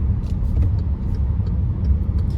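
A car drives along a city road in Kyiv during a driving exam, its steady low engine rumble and road noise filling the cabin continuously with no talk.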